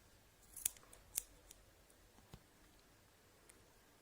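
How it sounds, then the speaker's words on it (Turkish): Scissors snip yarn while a handmade yarn rose is being finished, giving a few sharp, quiet clicks spaced irregularly against near silence. "bu ipinizi buradan kesebilirsiniz artık"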